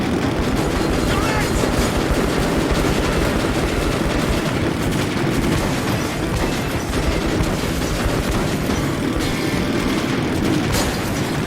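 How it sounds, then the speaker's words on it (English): A train thunders past in the video game Metro Last Light Redux, a loud continuous rumble with rail clatter and heavy booms throughout, while a voice shouts briefly partway through. "That's the train!"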